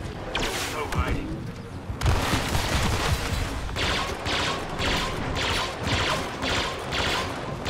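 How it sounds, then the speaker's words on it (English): Blaster fire in Star Wars Battlefront 2 targets Finn: a dense, continuous fusillade of laser shots with bursts pulsing through the clip, under a player's talking. "I'm shooting Finn, but nobody's here."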